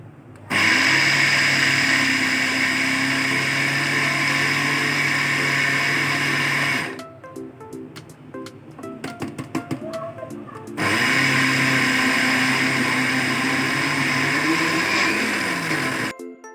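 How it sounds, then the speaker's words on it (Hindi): A food processor grinds peanuts into peanut butter, a loud steady motor whine running for several seconds, a short gap with rattling clicks and knocks, then the same whirring drone resuming until it cuts off. "पीनट को मैंने अच्छे से साफ़ कर लिया। अब इसको ग्राइंड करते हैं।"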